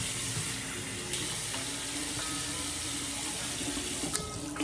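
Tap water runs steadily into a sink while skincare product is rinsed off, with a continuous close splashing flow and a few brief louder splashes, no talking.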